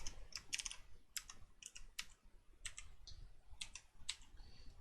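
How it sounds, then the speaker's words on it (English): Close, quiet typing on a computer keyboard, a steady run of light key clicks in irregular bursts with brief pauses between words. "And we'll just type some filler text in here."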